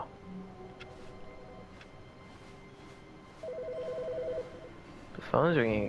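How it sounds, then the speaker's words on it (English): A telephone rings in The Stanley Parable video game: repeated electronic ring bursts sound at moderate volume over a quiet ambient hum, followed by a louder warbling tone at the end. "The phone's ringing again."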